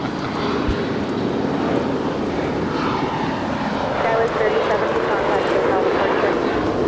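A Boeing 787 Dreamliner at Los Angeles International Airport gives a steady, close jet engine roar that holds through the whole stretch, with a voice talking faintly underneath.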